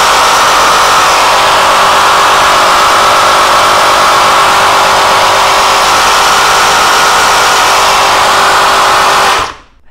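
A Makita XGT 40V Gen 2 reciprocating saw with no blade fitted runs at top speed 5 with a loud, steady motor whine and buzz that holds evenly for about nine seconds and then cuts off abruptly.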